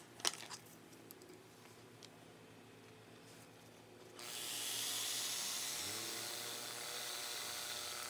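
A power drill drives screws into a spray-painted foldable table: a few clicks and knocks, then a sustained whirring drill run that winds up and holds steady for several seconds, fairly quiet and close.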